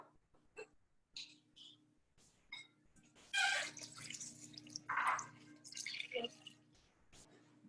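About two cups of water are poured into a bowl in short splashy bursts, quiet and close, with soft drips and gurgles between pours.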